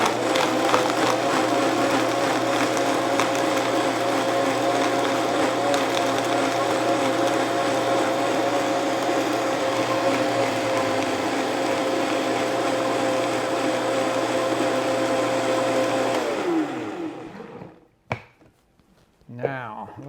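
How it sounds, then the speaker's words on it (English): A blender runs steadily and loud, pureeing Oaxacan pasilla chile salsa with water in one continuous whir, then cuts off near the end, leaving a few short clatters and quiet. "make a fairly smooth puree out of this"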